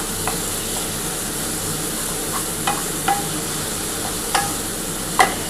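Spice paste for a spiny gourd curry cooks in a pan with a splash of water, a low steady sizzle broken by a few sharp clicks and scrapes of stirring, close and alone with no talk.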